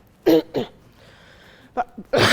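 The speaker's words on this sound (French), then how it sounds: "ça me fait tousser un peu" Several short, harsh coughs in quick bursts, close up, with a brief pause between the first pair and the later ones.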